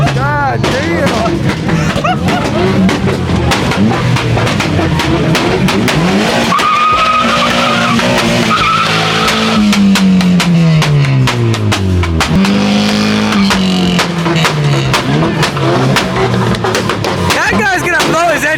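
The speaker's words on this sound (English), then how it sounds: "That guy's been revving it for like 20 minutes straight" A car engine revs hard and continuously, pitch climbing and falling, while tires squeal and skid throughout; loud and close, with a crowd faintly audible.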